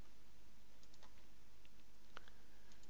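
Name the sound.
typing text on a computer keyboard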